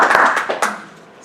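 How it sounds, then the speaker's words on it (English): Brief scattered clapping from a small audience, a few sharp claps at first that quickly thin out and fade within about a second. "Big round of applause for Kathy and Pam navigating the waters of s"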